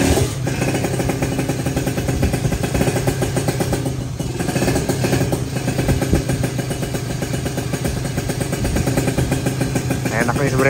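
A motorcycle engine idles nearby, a steady throbbing rumble that holds for the whole stretch, with faint clatter and muffled voices underneath.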